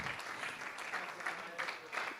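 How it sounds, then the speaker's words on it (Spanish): Church congregation clapping for its teachers and leaders during a Christian service, a brief, fairly soft wash of applause with a voice speaking over it. "Vamos a aplaudirle a todos esos maestros"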